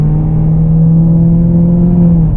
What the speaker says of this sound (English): that 2-inch Corsa exhaust back there sounds truly monstrous.